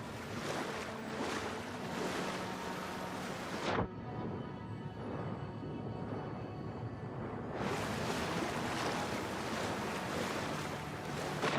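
A waterfall in the video game Avowed roars as a steady, dense rush of falling water, loud and close, dipping briefly in the middle before returning at full strength, with no talk.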